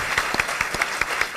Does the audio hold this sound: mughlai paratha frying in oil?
no